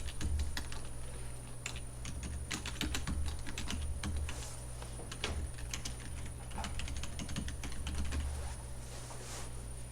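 Computer keyboard keys clattering in quick irregular bursts as a file name is typed for a new A3 drawing in CAD software, close and continuous over a steady low hum, with no talking.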